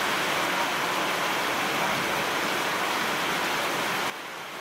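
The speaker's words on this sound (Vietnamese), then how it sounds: "Những giọt mưa chen nhau đổ trên mái tôn khiến câu chuyện nghe lúc được lúc mất." Heavy rain pours onto a tin roof as a dense, steady roar of drops, loud and unbroken, easing slightly in level near the end.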